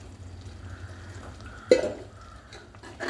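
Stirring cooked sago into jaggery syrup with rice flakes in a pot for adai payasam, soft wet scraping and a sharp clink of the spoon against the vessel, close up with a low bubbling hum underneath.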